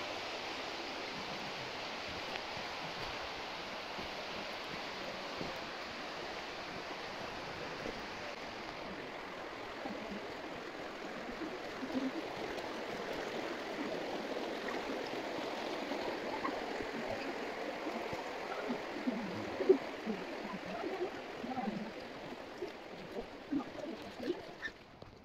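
The River Wye flowing in the Peak District, a continuous soft rushing of water heard steadily throughout, moderately distant and without talking.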